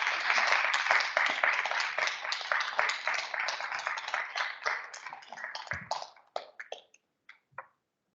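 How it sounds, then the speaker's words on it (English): Applause from the audience at a Bellevue School District 405 regular board meeting, a steady round of clapping lasting several seconds before thinning out into a few scattered final claps. "So let's give them a big round of applause."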